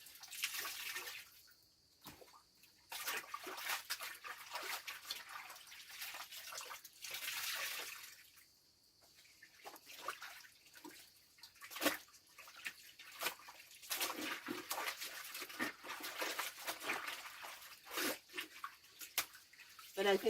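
Raw chicken pieces being washed in water in a kitchen: intermittent splashing, sloshing and dripping with quiet gaps between bursts, fairly faint and close.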